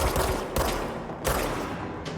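Rapid sustained gunfire in the game Control, a steady dense stream of shots with a few sharper cracks spaced through it, loud and up close.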